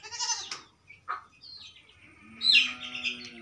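Birds at a rural farmhouse in the evening give a few scattered chirps and calls, one a brief bleat-like cry, with quiet gaps between them.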